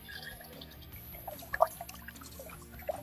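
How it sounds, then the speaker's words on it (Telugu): Quiet water sloshing and trickling over basmati rice during washing, near and soft, with a few louder splashes and drips and no voices. "ఒకసారి కడిగేసి మళ్ళీ వాటర్ పోసుకుందాం"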